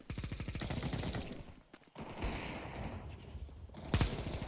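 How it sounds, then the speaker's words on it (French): Rapid machine-gun bursts from a heavy machine gun in a first-person shooter video game, loud, dense rattling fire with a brief pause near the middle before shooting resumes and peaks toward the end. "Ok, grosse mitrailleuse."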